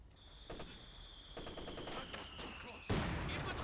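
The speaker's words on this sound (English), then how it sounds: "the mortar is chipping in, like, making these weapon teams look just a little bit less good" Mortar blasts and MG34 machine-gun bursts crackle in a Company of Heroes 2 battle, rapid rattling volleys with a sharp loud impact near the end, heard at moderate distance.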